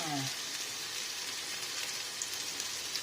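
Sauteed eggplant sizzles softly in a pan, a quiet, even hiss that carries steadily throughout with a brief faint tone at the start.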